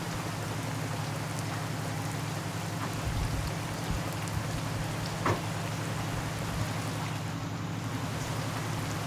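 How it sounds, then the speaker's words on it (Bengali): Rain falls steadily with a continuous hiss and scattered close drop impacts on surfaces, moderately loud and unbroken, with no talking. "যেদিন যাবো ওই দিনই বৃষ্টি হতে হয়।"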